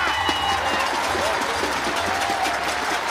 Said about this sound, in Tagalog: Ngayon, parang masaya na sila sa palakpakan lamang